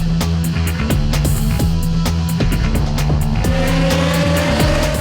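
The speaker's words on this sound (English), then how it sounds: "The mean Formula BMWs took to the track next." Formula BMW single-seat race cars at the Coimbatore circuit during a JK Tyre championship round, engines wailing loudly and steadily with rapid gear-change stutters and rising revs, close and continuous with no talk.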